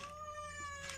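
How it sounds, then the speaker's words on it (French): A cat meows in a drawn-out, tonal call lasting about a second, close and fairly loud, with no talking over it. "Tu te tais, chat?"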